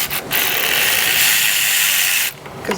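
A cordless Milwaukee ratchet drives a fastener on a Jeep Cherokee in a steady, loud mechanical whir lasting about two seconds. Short clicks come before and after the run.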